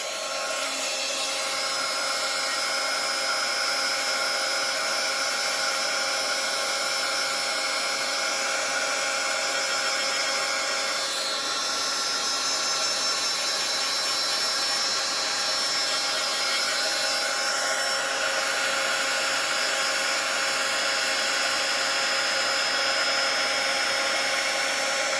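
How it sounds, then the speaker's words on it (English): A heat gun blows hot air over embossing powder on a DIY Christmas postcard frame, a loud, steady whirring roar that runs unbroken throughout. "I'm going to be using my heat gun."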